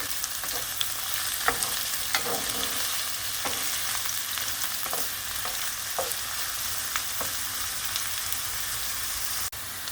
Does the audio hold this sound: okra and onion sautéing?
yes